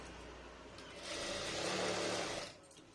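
A sewing machine stitches a thick seam through fabric held close to the needle, producing one steady, close mechanical whir lasting about a second and a half against a quiet background.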